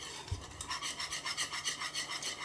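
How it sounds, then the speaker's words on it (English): A whisk beats batter in a bowl with quick, rhythmic scraping strokes, close and steady, about five or six per second. "Again, with the whisk, you're putting that air in that it needs to finish"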